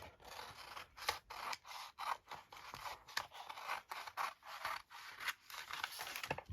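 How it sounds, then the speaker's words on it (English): Scissors roughly cutting through paper card for a craft swap, a steady run of close, crisp snips and rubbing slides repeating every fraction of a second, with no talking. "So now I'm gonna just roughly cut"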